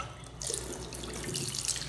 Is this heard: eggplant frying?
no